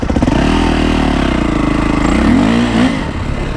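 A Yamaha YZ450F dirt bike engine revs hard and loud up close, holding a steady, throaty drone before the pitch swings upward and dips again near the end.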